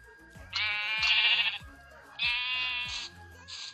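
Sheep in the Minecraft game, on a Skyblock map, bleat twice in a row with clear, nasal, electronic-sounding cries, each lasting about a second and heard close and alone.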